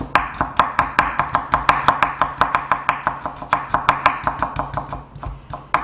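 A knife julienning sliced vegetables on a cutting board for japchae makes a fast, steady run of about thirty crisp, close taps with no talking.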